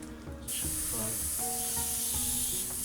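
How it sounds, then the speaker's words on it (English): A steady, airy hiss of thinned paint from an airbrush runs continuously after a brief quiet start, with faint tonal hum and clicks beneath it. "It's spraying very nicely."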